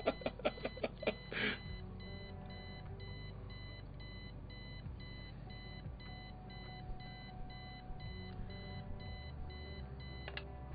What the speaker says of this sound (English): I set the alarm so you won't miss the funeral